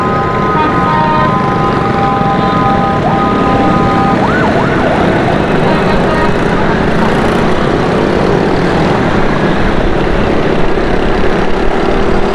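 An ambulance siren wails through dense, steady road traffic noise at a stopped signal, its rising tones partly buried under the continuous rumble of engines and horns around a motorbike rider.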